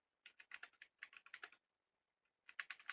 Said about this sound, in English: Let me type this out right quick.